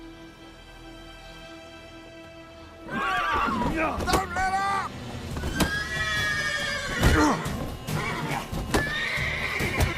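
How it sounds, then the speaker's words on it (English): A horse whinnies several times amid game sound effects in The Witcher 3: Wild Hunt, with people talking and shouting over it. "Horses working witchcraft!"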